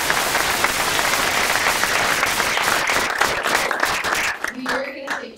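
An audience applauds the speakers at a data visualization talk, steady dense clapping that thins out near the end as a voice begins speaking.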